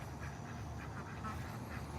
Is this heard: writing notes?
no